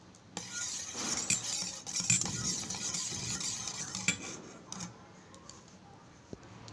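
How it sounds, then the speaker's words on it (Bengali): A spoon mixes milk into eggless sandesh cake batter in a bowl, giving a close, continuous scraping and swishing with a few light clinks, fading toward the end, with no voices. "দেব দুধ, ভালো করে মিশিয়ে নেব।"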